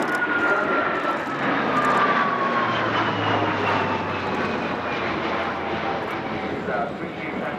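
Alenia C-27 military transport aircraft flying aerobatic maneuvers at an air show, its engines a loud steady drone with slowly shifting pitch throughout, with a commentator talking over it.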